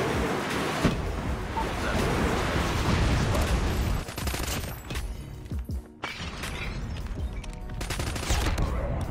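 Rapid bursts of Razorback gunfire in Call of Duty Mobile crackle loudly through most of the stretch, broken by a brief lull midway, amid mechanical clatter and game effects.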